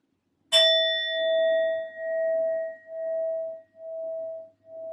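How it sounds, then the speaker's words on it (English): A singing bowl is struck once and left ringing, with a bright metallic strike followed by a long, steady sustained tone that pulses gently as it slowly fades, heard alone and close. "I will be using my sound bowl to clear and set the energy"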